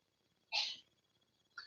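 A single sharp sneeze bursts out in a fairly quiet room, followed a second later by a short sniff or breath.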